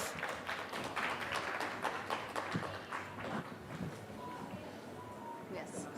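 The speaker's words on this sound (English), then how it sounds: "A huge round of applause," A conference audience at a real estate conclave applauds a guest panel, steady crowd clapping that lasts a few seconds and then thins out while people talk over it.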